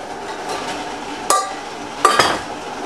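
Metal weights lifted off a homebrew pot of honey brown ale wort, giving two sharp clanks about a second apart over a low background hum, with no talking.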